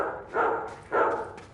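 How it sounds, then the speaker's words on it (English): Two snarling barks from a pack of rabid hellhound-like dogs in a PS4 video game, each a loud, rough burst lasting about a third of a second, separated by a brief pause. "as a pack of rabid dogs chase him"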